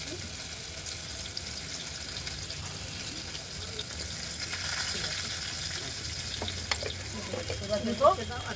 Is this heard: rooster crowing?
no